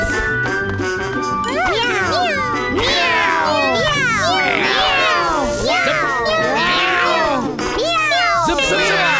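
Cartoon characters in a barbershop imitate cat meows, a dense chorus of overlapping, drawn-out vocal meows with light jingling, loud and continuous throughout.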